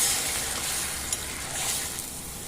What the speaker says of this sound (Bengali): গ্রেভিটা বানানোর জন্য আমি দিয়ে দিচ্ছি অল্প জল।